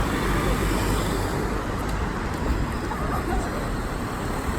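Dense, continuous street traffic near Baker Street and Marble Arch, London, rumbles nearby with a steady low roar of passing vehicles, no pauses or distinct events standing out.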